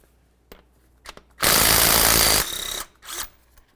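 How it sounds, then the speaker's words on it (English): Loosening the crank pulley center bolt on a 2009-2020 Dodge Journey, most likely with an 18mm socket on an impact tool: a loud sustained rattling burst of about a second, then a shorter second burst, with faint clicks around it. "Let's do that by using an 18mm on the center bolt here."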